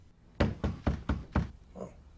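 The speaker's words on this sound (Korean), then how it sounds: "그리고 누군가 노크를 하게 되는데" A hand knocks on a door five times in an even, moderately loud series, each rap sharp and close, followed by a faint brief voice.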